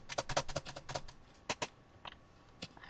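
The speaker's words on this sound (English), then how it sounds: "Stop slamming your keyboard," Hard, fast typing on a computer keyboard, with clusters of sharp key strikes in quick bursts that thin out into a few isolated hits, close and fairly quiet, with no voice.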